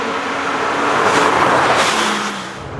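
Porsche GT2 sports car driving under power, a loud, sustained engine roar that swells slightly midway and eases off toward the end, no voices.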